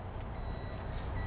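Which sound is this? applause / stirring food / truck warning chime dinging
truck warning chime dinging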